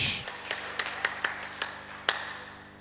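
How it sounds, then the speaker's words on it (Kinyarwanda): A church congregation claps for Jesus during a prayer and fasting service, sparse sharp handclaps landing in a steady beat over a low hum with little else around them. "Komera Yesu amashyi menshi."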